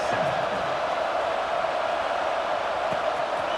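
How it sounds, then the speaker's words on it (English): A steady, dense roar of stadium crowd noise from an EA Sports College Football 26 game, buzzing continuously and evenly at moderate loudness throughout. "this crowd is buzzing after that last score"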